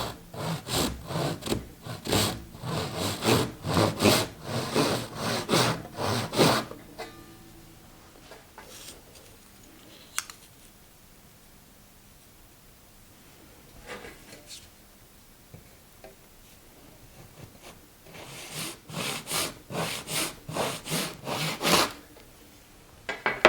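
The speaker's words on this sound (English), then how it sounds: "So I'm going to just use my handsaw to cut these pieces." A handsaw cuts thin pieces of ebony or rosewood in quick rhythmic back-and-forth strokes, a dense run of rasping strokes, a long quiet pause with scattered taps, then another burst of sawing.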